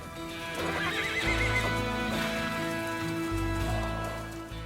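Stallions in the wild fenland whinny with a long, ringing neigh, joined by a second call, over a faint patter of hooves at a moderate distance.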